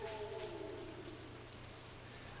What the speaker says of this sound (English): Luckily, it's raining, so we don't need to water our plants.